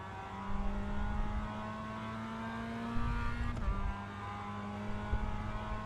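An iRacing Mazda MX-5 race car drones past on track, its engine note rising steadily and then dipping as it goes by, loud and continuous with no voices.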